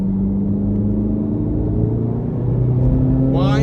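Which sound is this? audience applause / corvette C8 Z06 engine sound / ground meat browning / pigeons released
corvette C8 Z06 engine sound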